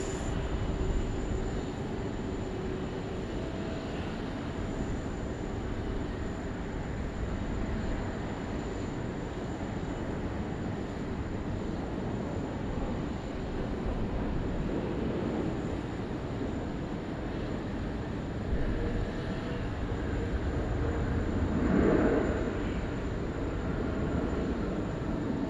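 An ANA Boeing 787 in timeless livery at Sydney Airport, a faint, distant, steady jet rumble that swells slightly near the end, with no talking.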